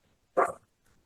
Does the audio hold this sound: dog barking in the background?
yes